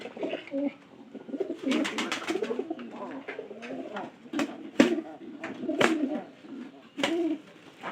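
Pigeons cooing close by, repeated throaty rolling coos from several birds overlapping in irregular bursts, with faint sharp knocks and rustles between calls.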